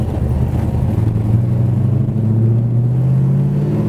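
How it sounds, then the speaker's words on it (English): A 1969 Plymouth Road Runner's engine rumbles loudly from inside the car as it pulls through the gears on the road, a steady deep drone whose pitch climbs and settles with each shift. "I like going through the gears in this baby anyway"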